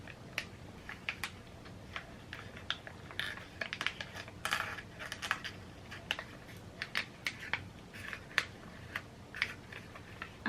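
A plastic package of tapioca pearls is torn open by hand without scissors, making quiet, close crinkles and scattered small clicks in an irregular rhythm.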